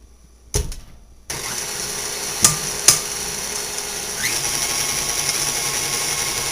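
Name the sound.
electric mixer whipping cream cheese filling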